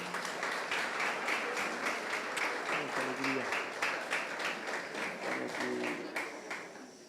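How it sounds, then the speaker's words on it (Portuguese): A church congregation applauding, dense rhythmic clapping that is close and sustained, with voices talking and calling out underneath. "vamos aplaudir Jesus"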